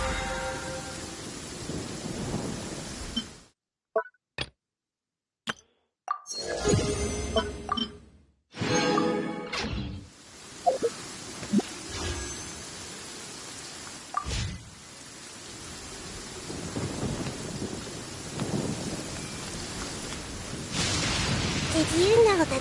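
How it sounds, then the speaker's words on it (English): Thunderstorm with rain, rumbling thunder and steady rainfall broken by abrupt cuts and silences, with bursts of rain noise returning and building louder toward the end. "Did you know that the sound of thunder is the prelude to new life?"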